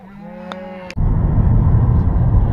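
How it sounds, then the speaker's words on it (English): A cow on a hiking trail gives a loud, close, drawn-out moo, followed by heavy wind buffeting and rumble. "The cows are happy to see us."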